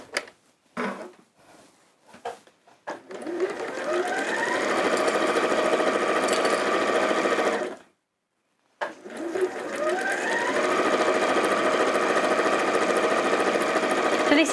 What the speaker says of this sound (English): And then just sewing those strips together.